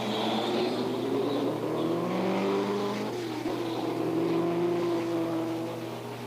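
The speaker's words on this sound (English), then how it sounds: "he's jumped into the car now, and he's going to attempt to start it" Engine of a 1967 racing car at the Canadian Grand Prix, a sustained roar with pitch sweeps rising and falling as it revs, loud and steady throughout without talk.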